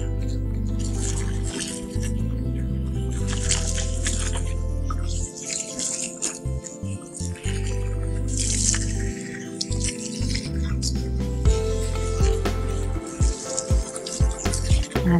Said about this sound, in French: donc là on va rincer notre premier shampoing